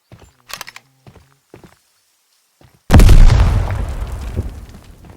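A C4 charge detonates in a clan raid video game, a sudden loud boom that decays over two seconds after some quiet footsteps and small clicks.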